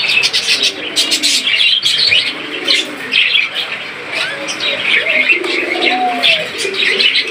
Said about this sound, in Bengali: প্রাপ্তবয়স্ক পাখিগুলো দেখতে পাচ্ছেন।